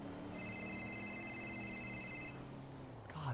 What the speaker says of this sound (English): Hang on, I'm getting phone call.